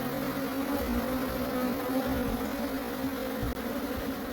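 Honeybees drone in a dense, continuous buzz at a hive during blueberry pollination in the KZN Midlands, steady and close throughout with no voices.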